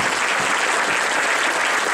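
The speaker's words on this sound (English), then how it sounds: "let's have a round of applause for all the candidates" A steady, dense round of audience applause for the candidates closes an Oregon U.S. Senate debate, many hands clapping evenly and fairly loudly, with no talking over it.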